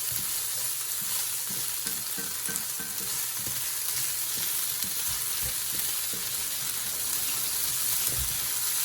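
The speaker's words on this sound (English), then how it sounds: "I want to cook the garlic just a little while. I don't want to burn it." Garlic fries in oil in a pot, giving a steady, close sizzle with light scraping and stirring taps throughout and no voice.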